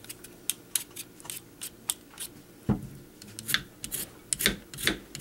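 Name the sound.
knife cutting the skin off a potato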